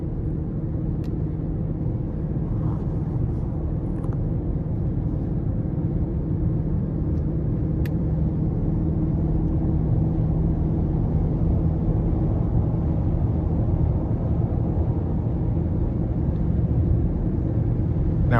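Cabin sound from a 2020 BMW X7 M50i SUV cruising on the interstate in sport mode, a steady, muted low rumble of engine and road noise with a faint tonal hum, unbroken for the whole stretch, with no talking.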